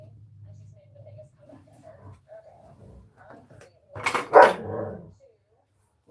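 A dog barks in a quick close burst of two or three loud barks after a stretch of quiet talking.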